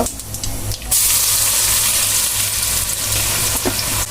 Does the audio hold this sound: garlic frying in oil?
yes